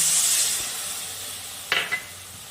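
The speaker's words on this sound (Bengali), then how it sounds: "এবার আমি মশলা ধোয়া জলটা দিয়ে দিলাম" Spice-rinse water hits a hot pan with a bright hiss that slowly fades, followed by two quick utensil knocks against the pan, up close.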